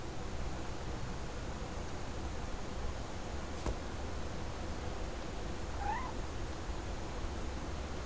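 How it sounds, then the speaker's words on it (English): A cat meows once, faint and brief, in the video game What Remains of Edith Finch, over a quiet steady hiss of ambient noise. "I hear a cat."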